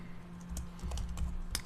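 Keys clatter on a computer keyboard as a network configuration command is typed, several quick clustered keystrokes close up over a steady low hum.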